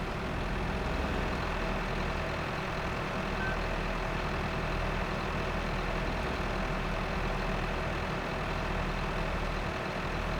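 A tractor with loader forks in Farming Simulator 15 backs up, its engine droning steadily and loudly with no break, a dense uniform rumble across the whole stretch.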